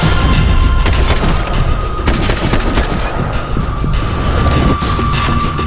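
Gunfire and a grenade blast in a Max Payne 3 shootout: loud sharp shots crack in quick bursts near the start and around two seconds, over a rumbling noisy backdrop that continues throughout.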